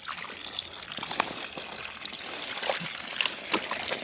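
Overflowing water trickles and splashes into a muddy pig wallow in a paddock, a faint, irregular dribble with small splashes and light ticking sounds, close by and without talk.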